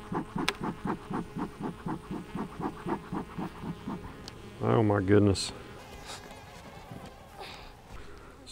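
Honeybees at a weak hive hum in a rapid, evenly pulsed buzz close by, with a brief louder burst of buzzing midway and a short exclaimed remark over it.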